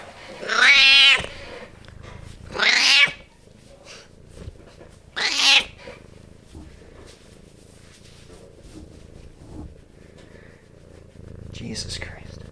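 A cat meows and complains while it is picked up: three loud, drawn-out yowls close by in the first six seconds, then quieter shuffling and handling noise with faint low voices.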